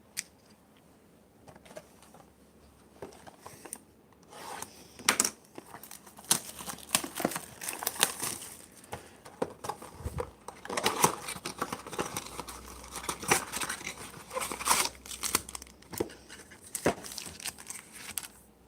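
Cheap trading card packs being torn open and ripped, with repeated crisp crinkling and tearing of foil wrappers in irregular close bursts, growing busier midway and continuing alone without speech.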